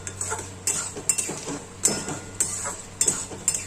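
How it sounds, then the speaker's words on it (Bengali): Mung dal being dry-roasted and stirred in a pan, with a series of sharp spatula scrapes and taps against the metal at an uneven rhythm over a faint low hum, close and fairly quiet. "নাড়াচাড়া করতে করতে আমার এই ডাল ভালোই লালে এসে যাচ্ছে"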